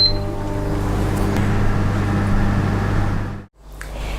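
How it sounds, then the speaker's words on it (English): A microwave oven runs with a steady electric hum and low drone evenly for a few seconds, heating couscous, then cuts off abruptly and leaves quieter room sound. "The couscous had 2 minutes in the microwave."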